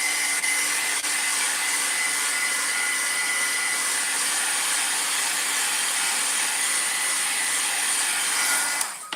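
Heat tool blowing continuously as it heat-sets Faber-Castell Gelatos colour on a craft project, a steady airy whine close to the microphone, unchanged for about nine seconds before cutting off abruptly.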